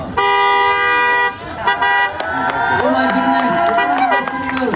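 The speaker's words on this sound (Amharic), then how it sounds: "ክላክስ እየሰማሁ እኮ ነው" A car horn honks loudly in repeated toots, first a sustained blast then shorter bursts, as a new car is presented to a singer at a lively celebration, with a crowd and voices audible around it.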